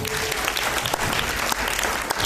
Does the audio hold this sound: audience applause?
yes